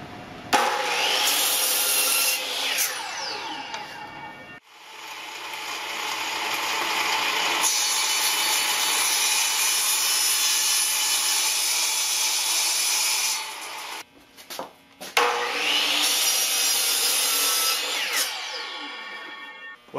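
Hand sawing through a 2x6 wooden board stood on its end, cutting it down to height: steady back-and-forth rasping strokes in two long bursts with a brief pause between, close and loud with no talk.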